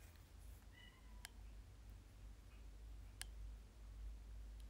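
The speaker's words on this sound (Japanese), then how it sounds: "にゃーんって言ってくれた" A cat heard during an indoor livestream gives a faint, brief meow against a low background hum, with a couple of sharp, isolated clicks on either side of it.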